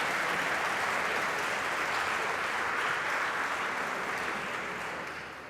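A crowd at a university academic debate in Guadalajara breaks into loud dense applause, holding steady before beginning to fade near the end.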